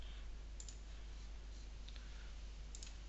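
Soft, quiet keyboard typing, a few light clicks spread over a few seconds, close by with no talk.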